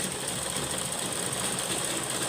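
A sewing machine runs a fast, even stitching rattle through woollen fabric cut from an old sweater, a steady close mechanical whir with no talking.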